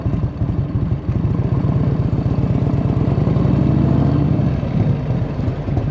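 A 1984 Harley-Davidson FLT Tour Glide motorcycle engine idles, a steady low, lumpy rumble with rhythmic firing pulses, close and loud, with no talk.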